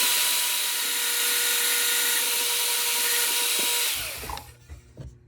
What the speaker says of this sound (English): Here I'm drilling the holes for the cotter pins that'll hold the wheels on the shaft.